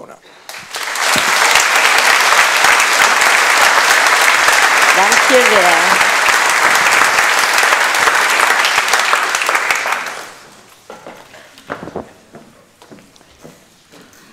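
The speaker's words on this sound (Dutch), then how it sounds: "graag uw applaus" A lecture audience breaks into loud, sustained applause for about nine seconds after an introduction at the Socrates lecture, then it stops and a speaker begins talking over scattered small sounds.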